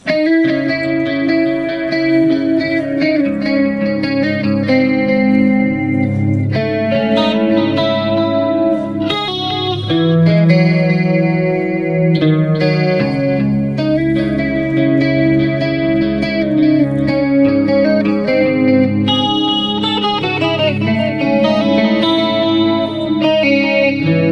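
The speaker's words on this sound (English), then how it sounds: "now without the reverb, with the delay and chorus, we got this." An electric guitar played through a BOSS eBand JS-10 rings out 80s-style chords and melodic lines, shimmering with chorus and trailing delay repeats, loud and continuous with no talking.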